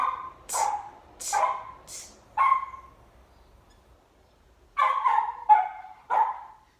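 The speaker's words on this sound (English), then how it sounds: "that silly dog of mine is barking at his reflection in the door" A dog barks at its reflection in a door in two bursts, first four barks, then a pause, then three more, sharp and fairly close in an otherwise quiet room.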